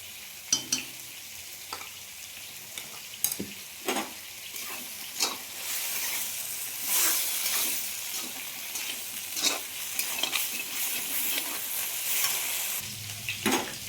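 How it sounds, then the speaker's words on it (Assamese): Fish seasoned with salt and turmeric fries and sizzles in a pan, a steady close hiss broken by repeated scrapes and clacks of a spatula stirring the pieces, with no voices. "এইখিনি ভাজি আছোঁ, নিমখ হালধি চব দিয়া হৈ গৈছে।"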